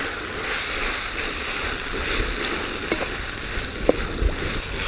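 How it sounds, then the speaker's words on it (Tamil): Tomatoes and onions sautéing in a pan for country chicken kulambu over a wood fire, a loud steady sizzle with occasional sharp stirring clicks; no talk. "நல்லா சேர்த்துட்டு நல்லா வதக்கி விடுங்க"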